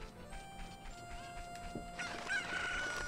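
A chicken in the video game Ocarina of Time, clucking and squawking over background game music and tones, moderately loud and continuous for a few seconds.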